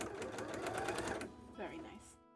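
A sewing machine stitches in a fast, steady run at close range, then slows and stops near the end, with a voice talking over it.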